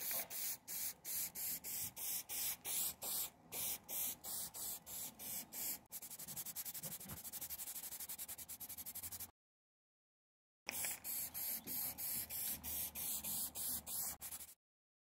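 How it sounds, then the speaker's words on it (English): Aerosol spray paint hisses in a series of short, rhythmic bursts, then a long steady spray, a brief pause, and more quick bursts, close and loud. "To finish the parts, I used automotive spray paint."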